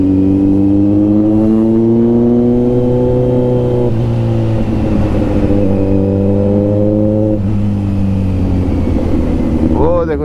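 A Kawasaki Z900 motorcycle accelerating hard and loud close up, its engine note climbing through the gears in rising sweeps, with brief drops at each shift.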